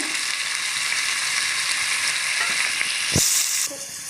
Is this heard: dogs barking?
no